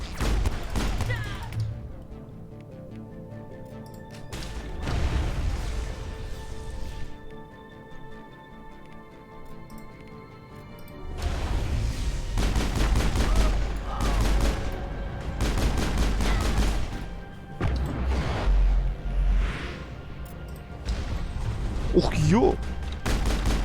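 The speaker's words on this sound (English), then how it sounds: "Это базука, что ли?" Bursts of gunfire and heavy bazooka-like blasts in the video game Mass Effect, loud and close, coming in dense volleys with quieter gaps, while a man exclaims briefly.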